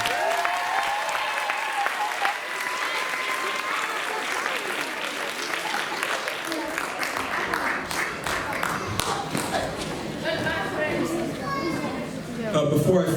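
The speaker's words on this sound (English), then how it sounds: "Let's give them a round of applause." A middle school audience at a performing arts awards ceremony bursts into sustained applause for newly announced 8th grade officers, dense clapping filling the hall for over ten seconds with some chatter mixed in.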